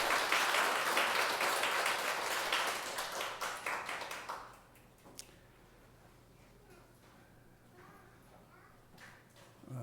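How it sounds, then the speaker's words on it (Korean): A church congregation gives a loud round of clapping that rings for several seconds and then fades out, leaving a few scattered claps and quiet room noise. "우리 하나님께 영광의 박수 올려드리겠습니다."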